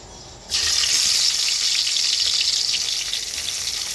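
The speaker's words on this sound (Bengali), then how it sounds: "মাছটা ভাজার জন্য কড়াইতে আমি তেল গরম করতে বসিয়ে দিয়েছি" Tengra fish drop into hot oil in a wok and set off a sudden loud, continuous sizzle. The frying then crackles on steadily with no voices over it.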